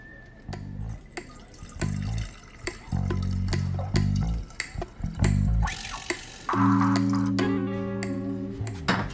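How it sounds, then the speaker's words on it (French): Water poured slowly into a container, a steady close trickle and splash that grows fuller toward the end, heard without any voices. "doucement, je verse de l'eau"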